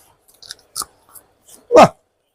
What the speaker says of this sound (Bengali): আমি যে কাঁচা ভেন্ডি খাই